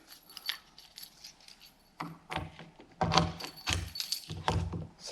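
Keys jangling and clicking as roof racks on a Cupra Formentor are locked in place, a few metallic rattles and short thunks close by, quiet overall.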